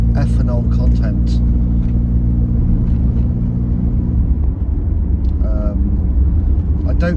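A classic car's engine running on E5 fuel, heard from inside as a steady low rumble with an even drone throughout, while someone talks over it.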